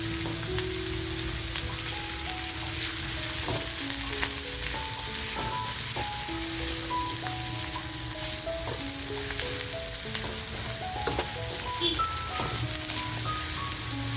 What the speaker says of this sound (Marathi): तेल छान आपलं तापले कांदा जो कापून घेतलाय तो कांदा टाकायचा आहे